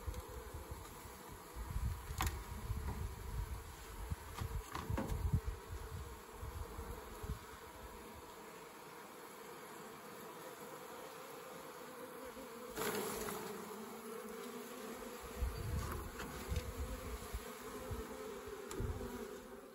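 Honey bees buzz around a mini mating nuc in a summer apiary, a steady close hum with individual bees droning past the microphone.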